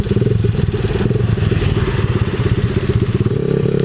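127cc X7 pocket bike engine running loud and close, a rapid pulsing putter that rises and dips slightly, with the engine note shifting near the end, no speech.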